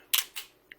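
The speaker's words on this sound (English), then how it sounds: "Spin them around till they click in." Plastic parts of a Combiner Wars Armada Megatron toy robot click into place, three sharp, close clicks within a second, the last one smaller.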